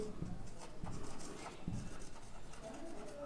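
Chalk or marker strokes on a board during a maths lesson on solid objects, soft and intermittent scratches with short pauses, recorded close and fairly quiet.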